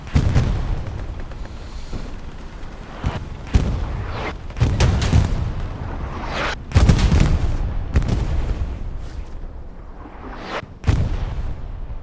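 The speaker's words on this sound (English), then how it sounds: "WTH artillery absolutely knows exactly where 38th wants to go, and they are just going to shell this area, E5, just west of St. Marie." Artillery shelling in the WWII shooter Hell Let Loose on the Sainte-Mère-Église map: a series of loud heavy booms, about eight, landing at irregular intervals, each followed by a rumbling decay.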